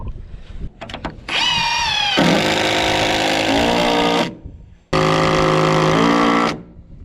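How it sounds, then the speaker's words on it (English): A power drill drives 4-inch construction screws into wooden roof rafters, whining in two long bursts with a rising pitch as each screw sinks in, close and loud, after a few short taps at the start. "I'm gonna go ahead and hit this with a couple 4-inch screws and a 4-inch construction screw"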